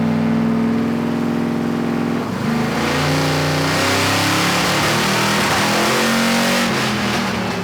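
An LS1 V8 swapped into a Toyota Corolla runs rough at a loud, close idle, then revs up unevenly and holds a ragged, low rev with no voices over the engine.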